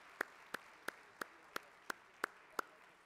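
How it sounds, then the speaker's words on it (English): A single person claps slowly and evenly for a conference speaker, eight crisp separate claps at a steady rhythm, close and quiet over a faint room hush rather than a crowd applauding together. "Let's give him another round of applause."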